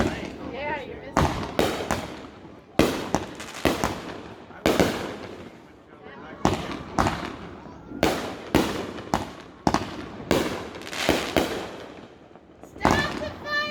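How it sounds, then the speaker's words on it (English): Fireworks bursting over a lake at a 2020 display: loud, sharp bangs arrive in an irregular series, some close together in quick pairs, with people talking and shouting between the blasts. "Stop the fireworks!"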